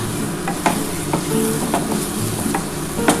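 Lote fish (Bombay duck) stirred and fried in a pan, a steady close sizzle broken by repeated scraping strokes of the spatula at an irregular rhythm, with no voices.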